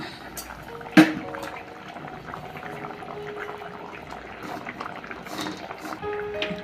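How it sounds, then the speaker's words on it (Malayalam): A pot of Kerala-style jackfruit seed, mango and dried prawn curry bubbles and simmers steadily, with a sharp clink near the start and soft popping throughout. "ഇത് കറി നന്നായിട്ടൊന്ന് തിളക്കണ വരേക്ക് ഒന്ന് വെയിറ്റ് ചെയ്യണം"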